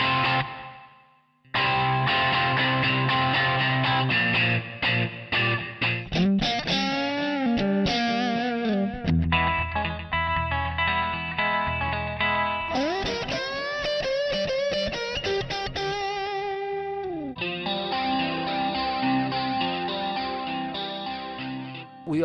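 Electric guitar played through a TC Helicon VoiceLive 3 effects unit, bursts of distorted chords and lead phrases with chorus, delay and pitch-bending effects, loud and alone, changing tone from section to section.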